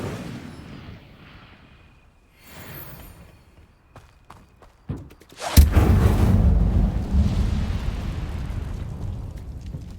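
A fiery Incendio spell blast erupts in Hogwarts Legacy, a sudden loud burst about halfway through followed by a sustained roaring rumble of flame, after quieter ambient game sounds and scattered pops.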